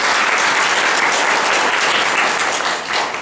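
A live audience at a clipper haircutting class claps loudly and steadily, a dense wash of many hands that holds without a break and eases off slightly near the end.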